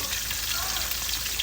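Milkfish frying in hot oil, giving a steady, dense crackling sizzle that is close and continuous throughout the short moment, with no speech over it.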